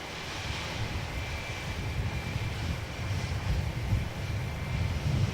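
A Qantas Airbus A330-300 on very short final into Melbourne Airport, heard as a steady, fairly distant jet engine rumble mixed with wind buffeting, with no voices.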